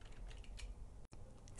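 Several quick keystrokes sound on a computer keyboard, ending with a single press of the Enter key. The taps are close and light, with a brief silent gap partway through.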